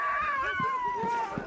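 Sled dogs at a kennel near 6 Mile Track howl in a sustained, wavering chorus, with short barks and yips punctuating underneath, close and loud throughout.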